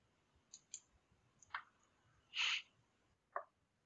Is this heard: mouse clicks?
yes